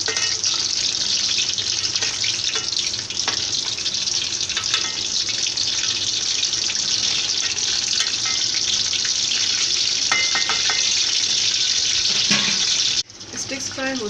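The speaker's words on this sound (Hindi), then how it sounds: "इसको भी पैन में डाल दें और हीट को मीडियम रख के इसको फ्राई करें" Chicken sticks fry in a pan of oil over medium heat, a steady, dense sizzle running nearly unbroken for the whole stretch before dropping away abruptly near the end.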